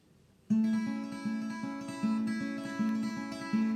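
Steady plucked acoustic guitar notes from the verse of a song repeat in an even, rolling pattern, bright and close, starting abruptly after a brief pause and continuing without voices.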